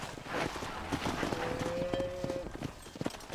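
Horse hooves clip-clopping at a walk in the Western video game Red Dead Redemption, an even rhythmic plodding close by with a short whinny-like tone midway and faint talk underneath.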